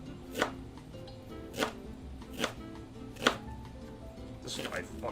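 A knife chops food coarsely on a board in a basement kitchen setup, five evenly spaced sharp knocks close up with faint room hum between them.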